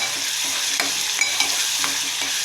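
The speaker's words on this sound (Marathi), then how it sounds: "आणि कांदा तळून झाल्यावर टोमॅटो मस्त पेस्ट टाकून घ्यायची" Tomato paste fries with onions in a pan, making a loud, continuous sizzle with regular stirring scrapes close by and no voices.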